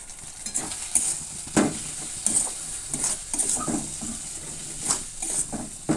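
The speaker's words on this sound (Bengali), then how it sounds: "সামান্য একটু জল দিয়ে আমি মশলাটা কষিয়ে নেব।" Ground spices with Kashmiri chilli powder fry in a pan of onions with a splash of water, sizzling steadily while a spoon stirs and scrapes the pan in uneven bursts, close and moderately loud.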